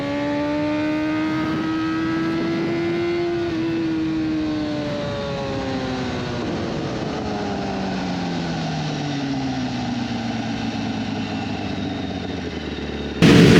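A BMW S1000RR superbike, an ex-ASBK race bike, screams along a racetrack at speed, its high-revving inline-four rising and falling through gear changes, loud and sustained from an onboard position with heavy wind rush.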